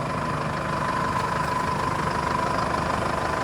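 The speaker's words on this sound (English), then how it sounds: "It is just the sound of the good old diesel with stock exhaust." A Pontiac 4x4 diesel engine with stock exhaust idles steadily, a continuous low rumble with a faint clattering texture and a slight steady hum, close and even from start to finish with no voices.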